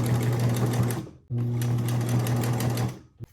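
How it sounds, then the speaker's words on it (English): A sewing machine stitches around the edge of a fabric bookmark in two steady, loud runs broken by a short pause, with a faint click at the end. "I'm gonna sew around the outside of this and stop here so that I am not sewing this 2-inch section in the middle"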